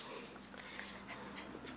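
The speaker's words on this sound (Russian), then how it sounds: "Хорошая собака." A dog pants steadily with a few soft, high whimpers mixed in, close by and fairly quiet.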